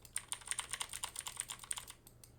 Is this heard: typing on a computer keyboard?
yes